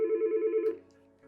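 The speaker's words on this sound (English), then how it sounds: "So again, I'm going to receive another phone call." A Yealink desk phone rings with an incoming call, a warbling electronic trill that pulses quickly, then cuts off and fades into quiet.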